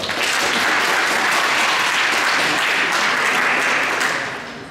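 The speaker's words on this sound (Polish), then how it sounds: "Wielkie brawa." A school nature contest audience gives a loud, sustained round of applause for a team, dense and even throughout before tapering off at the end.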